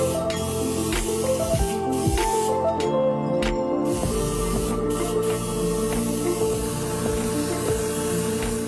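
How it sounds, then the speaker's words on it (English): An airbrush sprays colour onto a leather Chanel bag during a professional restoration, making a close, steady hiss broken by brief pauses, with no talk. "Now I'm ready to get started airbrushing the color."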